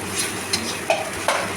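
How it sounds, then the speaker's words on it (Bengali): Pointed gourd frying with grated coconut in a pan, a steady close sizzle broken by a few sharp spatula scrapes and stirs. "ভালো করে আবারও আমি নারকেলের সাথে পটলটা ভেজে নিচ্ছি।"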